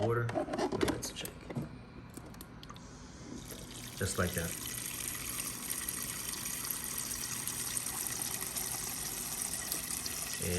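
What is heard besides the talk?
water dispensing from a GE refrigerator water dispenser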